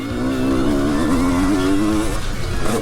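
The engine of a 1997 Honda CR250 motorcycle revs loudly and close by, its pitch wavering up and down in a continuous buzzing snarl.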